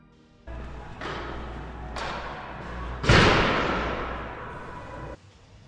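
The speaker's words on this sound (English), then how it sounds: "it closed with a banging sound as loud as a gunshot" A heavy mall door at White Mountain Mall, Rock Springs, Wyoming, slams shut with a loud, booming bang that rings out and decays, preceded by a couple of softer thuds.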